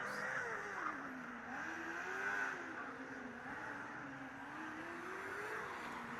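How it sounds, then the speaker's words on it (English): A Formula Student race car lapping an autocross course, its engine note rising and falling in a wavering whine as it works through corners, heard faintly from a distance. "Car number 68 makes its way around the course for its first run."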